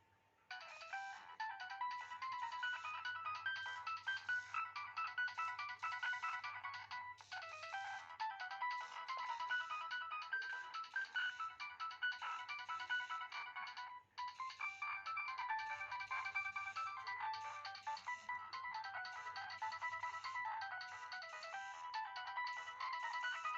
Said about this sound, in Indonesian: untuk ringtone-nya sih lumayan bagus guys ya